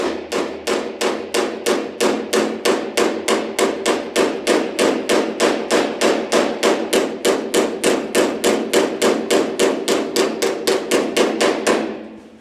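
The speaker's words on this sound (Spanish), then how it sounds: "Este martillo es para sacar las cosas chiquitas" A hammer taps steadily on hard automotive sheet metal to pull out small dents during body panel repair, about forty sharp, evenly spaced ringing blows over twelve seconds, loud and close with no talking.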